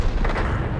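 A single heavy, booming artillery impact strikes a KV-3 tank in World of Tanks, one deep close blast that rolls and fades over under a second.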